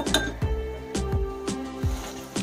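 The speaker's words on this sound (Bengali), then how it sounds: "এটাকে ভালো করে মিশিয়ে নিতে হবে।" A spoon stirring soy sauce, tomato sauce and sugar in a bowl clinks against the side about five times in a steady, evenly spaced rhythm, close and bright.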